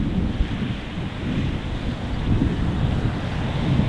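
Steady wind buffets the microphone on an open golf course at a seaside resort, a continuous low roaring rush with no talk over it.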